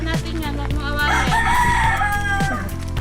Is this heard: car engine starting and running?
no